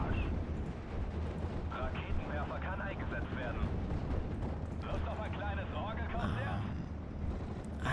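Battle explosions and artillery rumble from the World War II strategy game Steel Division Normandy 44 roll through as a dense low boom, with people talking over it.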